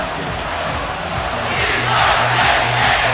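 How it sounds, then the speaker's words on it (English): A stadium crowd chants "We Are Penn State" in the College Football 25 video game, a loud continuous roar with rhythmic chanting swelling toward the end. "You can hear the "We Are Penn State" chant."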